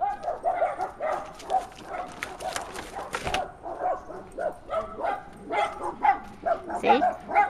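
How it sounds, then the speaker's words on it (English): Dogs bark and yip repeatedly at a moderate distance, a busy overlapping run of sharp barks with some whimpering, continuing steadily throughout. "my dogs let me know when there's somebody in the neighborhood around."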